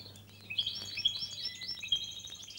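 Several small songbirds in a bird room chirp and tweet in quick, high trills, fairly close and clear over a quiet background hum.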